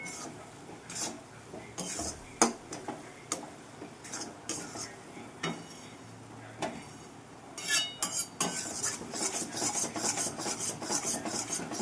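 Moong dal being roasted in a kadhai for halwa, a spatula scraping and rasping against the pan in irregular strokes, with occasional metallic clinks and no talk.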